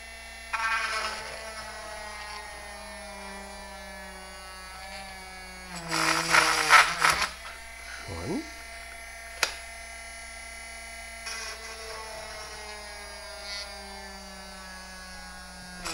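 A Dremel rotary tool drills holes in a plastic tape reel, its thin, high whine rising through steady tones, with a louder grinding burst in the middle and short bursts after it.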